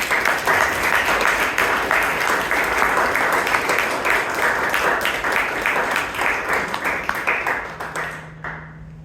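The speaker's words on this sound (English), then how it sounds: "let's give Toastmasters Shivangi and Toastmasters Chaitra a round of applause" A round of applause from the audience at a Bangalore Toastmasters Club meeting, steady clapping that tapers off near the end as a faint hum remains.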